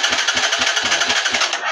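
A car engine started by a newly installed remote alarm starter, running with a rapid, even pulsing chug close by, continuous and unaccompanied by talk.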